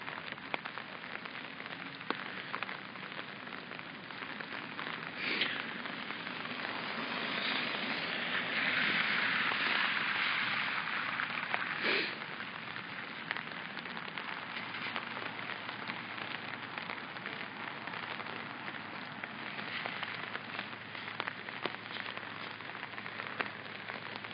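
Steady rain falls outdoors at an evening street gathering, a soft continuous hiss of drops with faint scattered patters, no speech, and a slight swell in the middle.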